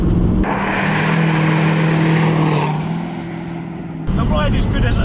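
A supercharged 2010 Chevrolet Camaro SS makes about 550 wheel horsepower, and its engine roars loudly as it accelerates hard with a steady rising drone. The drone drops off briefly near the end before the engine comes back in.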